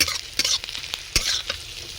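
Chopped onions fry in a pan with a loud, close sizzle, punctuated by repeated scraping stirs and sharp clatters; no voices.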